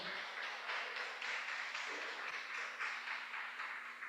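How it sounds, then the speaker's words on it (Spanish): A church congregation claps during a service, a fairly quiet, steady patter of many hands in a loose rhythm that carries on for several seconds, with a faint low hum beneath. "Denle un aplauso al Señor."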